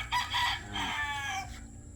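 A Golden Boy straight-bred gamefowl rooster crows once, a loud, close call lasting about a second and a half that rises and then trails off. No voices are heard.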